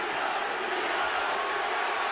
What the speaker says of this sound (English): And the crowd is chanting, B-Hop, B-Hop.